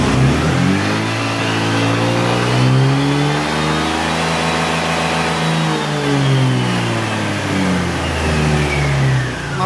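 A Honda Click 125 scooter engine revs hard at full throttle, a loud, steady high-pitched whine that climbs and holds near maximum RPM before easing slightly toward the end, close to the machine with no talk over it.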